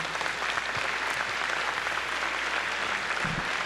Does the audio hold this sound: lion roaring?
no